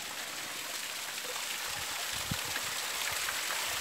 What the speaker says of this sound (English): And we're back at the spring water